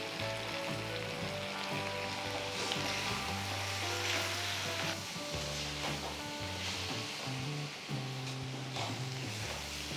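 Masala added to chicken for Chettinad chicken fry sizzles steadily in a hot pan for the whole stretch, a loud continuous hiss over a low droning tonal background.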